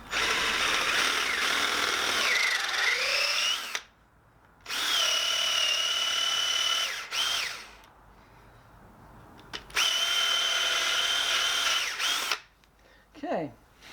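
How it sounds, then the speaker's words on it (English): A power drill whines in three long bursts, drilling a thread clearance hole while making bowl or spoon carving gouges, pitch dipping as it bites into material, separated by short pauses, close and loud. "then we'll drill the thread clearance on"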